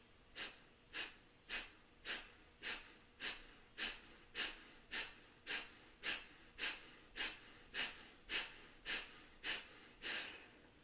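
Pranayama breathing exercise: sharp, forceful nasal exhales repeated at an even pace of roughly one and a half per second, close and clear, with quiet passive inhales between and no talking.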